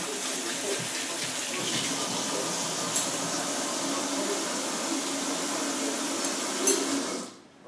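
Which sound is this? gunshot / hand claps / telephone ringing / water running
water running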